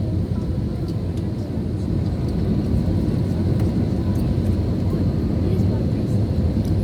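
Passenger airliner on final approach to the runway, flight from Kathmandu to Bangalore, a steady loud cabin roar of engines and airflow with faint voices talking underneath throughout.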